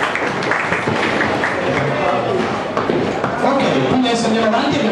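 A crowd at a cosplay contest in a bowling alley in Rubano claps in a loud, busy burst, mixed with voices and scattered thuds from the venue.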